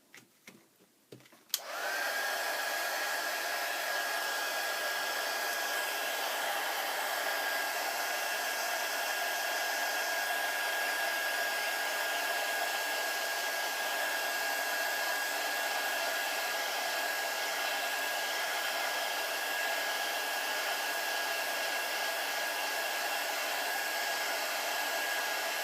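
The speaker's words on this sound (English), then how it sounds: "at this point, I actually am going to dry it a little because it's too wet" After a few quiet clicks, a hair dryer switches on and blows in a steady, loud, close whir for about twenty seconds, drying wet ink in a mini envelope book.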